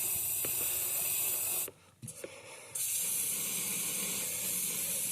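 A long, loud hiss of aerosol penetrant sprayed into a stuck 350 marine engine block, briefly interrupted by a pause with a couple of small clicks, then spraying continues steadily.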